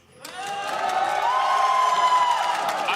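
Crowd at an LEC 2022 Spring Playoffs esports match cheering loudly for a G2 versus Rogue game, a broad steady roar of voices and whoops rising quickly after a brief quiet start and holding strong throughout.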